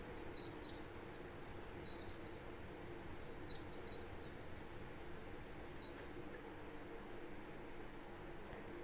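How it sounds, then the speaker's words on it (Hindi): A myna gives faint bursts of quick, high chirps, repeated a few times over a steady background hiss. "मैना को हिंदी में मैना कहते हैं।"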